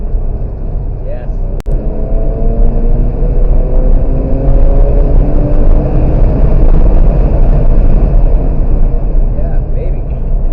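A race car on a track during a driving event, its engine droning loudly and steadily inside the cabin and easing as the driver brakes, with a voice speaking over the rumble.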